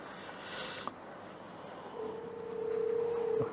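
A telephone call coming through on a family-counselling call-in broadcast: a faint click, then a steady electronic tone that holds for about a second and a half and swells slightly, under a low hiss of line noise with no speech.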